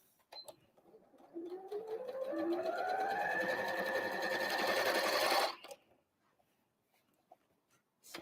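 A sewing machine stitches a Christmas tree fabric napkin in one steady run of about four seconds, the motor pitch rising as it speeds up before stopping abruptly, followed by quiet handling.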